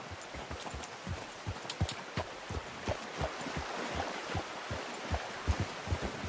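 Horse hooves clip-clopping in the video game Red Dead Redemption 2, a steady run of soft, muffled thuds in an even rhythm over a faint background, with no talk.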